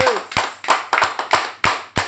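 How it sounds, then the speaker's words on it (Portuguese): Church congregation clapping hands in rhythm at a cell group worship meeting, a steady series of sharp, close hand claps at roughly even intervals, with faint voices underneath. "Pode aplaudir!"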